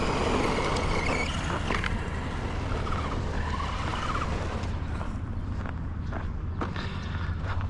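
Arrma Granite 4x4 Mega 665, a four-wheel-drive electric 1/10 scale brushed-motor RC monster truck, driving with a steady close whir and rough crunching of tires over the ground, continuous throughout with no talk.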